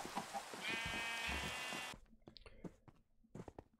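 A Minecraft sheep gives one drawn-out, wavering bleat near the start, followed by quieter scattered clicks and small game noises.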